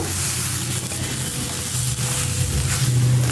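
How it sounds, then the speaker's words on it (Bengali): Rice, lentils and spices sautéing together in a pan for khichuri give a steady close sizzle and hiss, with a low hum running underneath. "এই যে এখানে আমি চাল ডাল দিয়ে দিয়েছি মশলা দিয়ে একসাথে কষিয়ে নেব"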